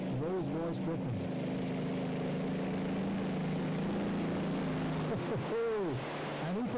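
A tractor-pulling machine powered by two Rolls-Royce Griffin engines roars steadily and loudly at a European pull in France, a sustained heavy engine drone with shifting pitch, the commentator talking over it.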